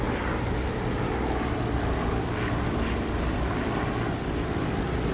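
A propeller aircraft engine in the DCS flight simulator drones loud, steady and close, a dense unbroken roar with no speech.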